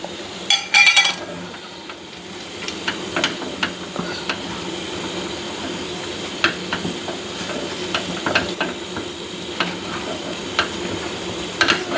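Chettinad ukkarai sweet with cashews and cardamom is stirred in a pan, giving scattered light scraping and clinking sounds over a soft background hiss, close and fairly quiet, with no talking.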